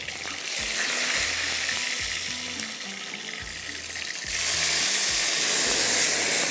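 Onion, tomato and ground yogurt frying in a pan for achari aloo, a steady sizzle with a rhythmic low clatter, growing louder and brighter near the end.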